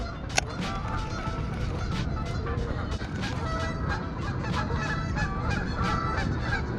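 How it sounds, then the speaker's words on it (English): A flock of geese or ducks honks loudly and repeatedly near a fishing spot on a rainy day, sharp overlapping calls in quick succession over a steady background wash. "I'm sorry about the geese or the ducks. They're pretty loud and annoying."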